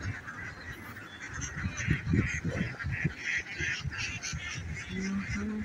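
Ducks at a modern duck farm in Chuadanga, a flock honking and quacking continuously at close range over steady outdoor background noise.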